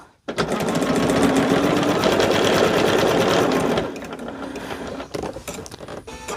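A sewing machine runs steadily while stitching a quilt seam, a fast continuous mechanical whir that stops abruptly partway through, leaving quieter handling clicks and faint room noise.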